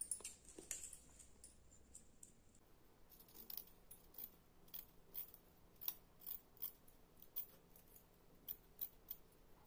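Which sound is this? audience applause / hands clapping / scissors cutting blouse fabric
scissors cutting blouse fabric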